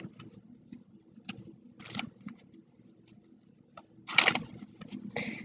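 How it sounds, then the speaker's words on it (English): A deck of cards is shuffled nearby: soft riffling bursts and light flicks come in irregular spurts, with the fullest rustle toward the end. "Gonna shuffle these cards."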